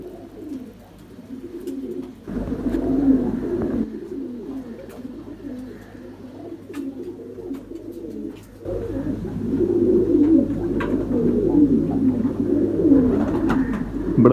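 Ferozpuri pigeons coo close by in soft, repeated throaty rolls, swelling in two louder bouts with brief quieter gaps, with no talking over them.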